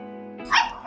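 A single short, high Indian street dog puppy yip or bark, close and fairly loud, cutting over a faint steady hum.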